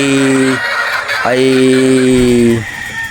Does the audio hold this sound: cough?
no